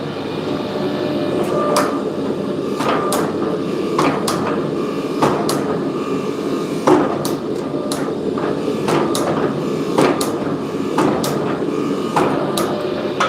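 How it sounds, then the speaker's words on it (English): Repeated hammer blows forging a Damascus steel billet during a first forge-welding pass, sharp regular strikes about once a second over a steady roar of the forge, with no talking. "First welding pass."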